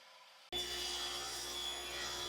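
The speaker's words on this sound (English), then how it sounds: "Right now I have a stop set up at the miter saw, and I am just using that to very quickly cut these pieces to rough length." A miter saw in a woodworking shop cuts wood pieces to rough length: after a short quiet lead-in the blade starts abruptly into a loud, steady whining roar that runs to the end, with no voices.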